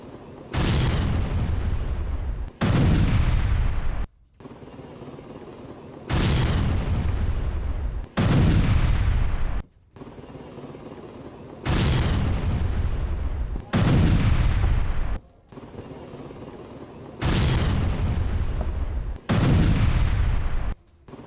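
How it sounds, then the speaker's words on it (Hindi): Missiles destroyed by Patriot interceptors during the Russia-Ukraine war: loud, heavy booms arrive in repeated pairs, each roaring burst cutting off abruptly, with a steady rumble between them and no voices. "4 जिरकॉन मिसाइलें नाकाम की गई हैं, पैट्रियट इंटरसेप्टर से मिसाइलें नष्ट की गई हैं।"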